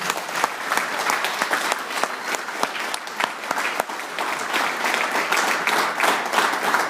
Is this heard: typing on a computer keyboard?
no